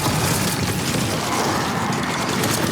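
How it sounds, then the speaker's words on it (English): A stasis turret is set down in the Destiny 2 shooter, a mechanical clank and ratcheting thump buried in a dense, continuous wash of loud combat noise. "let's put a stasis turret down here"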